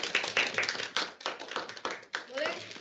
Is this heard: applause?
yes